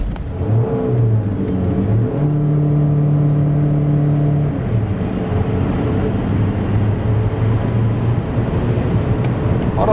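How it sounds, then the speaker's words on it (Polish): An MG HS Hybrid+ 1.5 hybrid car pulls steadily under load on a wet road, its pitch climbing through gear changes, with a continuous rush of road and tire noise throughout. "W kwestii dynamiki samochód tak przyspiesza od 0 do setki,"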